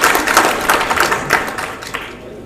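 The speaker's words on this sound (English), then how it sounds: "Please, we don't clap at public hearings like this." Audience clapping at a public hearing, a loud, close burst of many hands that steadily fades over a couple of seconds.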